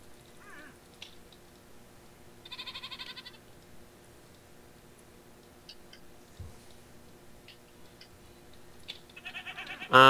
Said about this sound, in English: I'm shearing my sheep, shearing my sheep, shearing my sheep.